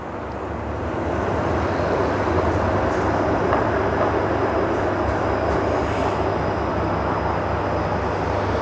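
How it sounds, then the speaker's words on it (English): A Toronto 512 streetcar rolls past on a city street during a winter lockdown, a steady loud rumble and roar of wheels and motor that swells in within the first second and holds close throughout, with no talk. "There's a 512 streetcar rolling by."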